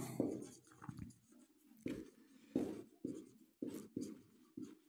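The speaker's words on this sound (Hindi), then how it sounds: "अब द, जिसको लेटर लिख रहे हैं उसका लिखेंगे" A pen scratching across paper as a letter is written by hand, soft, close strokes in short irregular bursts with quiet gaps between words.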